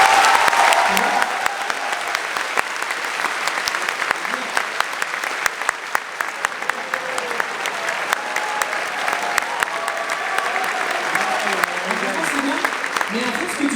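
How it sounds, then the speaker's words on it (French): Sustained crowd applause at a live event, dense steady clapping that fills the whole stretch, with a few voices and cheers faintly mixed in. "on peut les applaudir"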